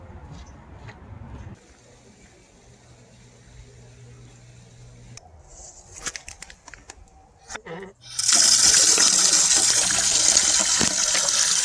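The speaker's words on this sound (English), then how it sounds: "After getting my water at the Johnson Rock water spigot" Water runs from a mountain spigot at Johnson Rock in the Angeles National Forest, starting quietly with scattered taps and clatter, then bursting into a loud, steady rushing gush during the final few seconds.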